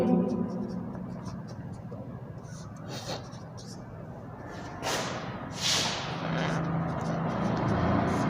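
A lecturer writes points on a board during a Hindi literature class, with scratchy marker or chalk strokes coming in bursts over a steady room hum, and a few sharper squeaks near the end.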